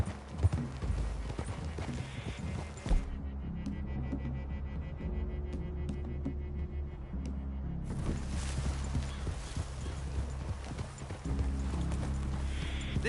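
Horses' hooves clip-clop steadily at a walking pace in the Red Dead Redemption 2 video game, a close, continuous rhythm with a brief lull in the middle before the hoofbeats resume.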